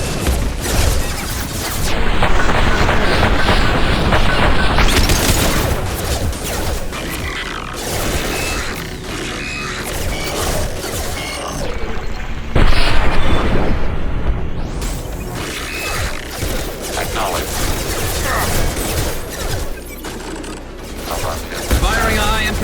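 Mass Effect 2 combat, with sustained weapon fire, heavy booms and mechanical whooshes piling up loud and dense, broken by brief lulls, while voices speak through the fighting.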